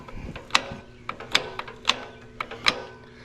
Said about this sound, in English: How hard does it crank over?